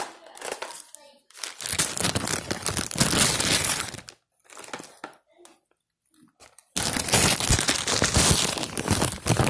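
A plastic bag is crinkled and rustled while packing a cosmetology practical exam kit. It makes bursts of loud, close crackling separated by short pauses and a few quieter rustles.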